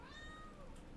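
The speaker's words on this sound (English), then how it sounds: "And that's my cat." A domestic cat gives a single drawn-out meow at moderate distance, set against a faint steady background hiss.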